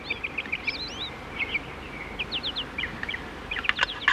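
Small birds chirp and tweet outdoors in open prairie country, a scatter of quick, high calls and short trills at moderate distance over a steady background hiss, with no voices.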